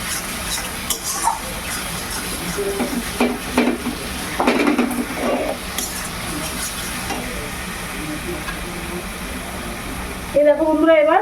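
Spices and yogurt being stirred in a pot for mutton pulao, with soft scraping and gentle sizzling that continues steadily before a louder clatter near the end, with voices in the background.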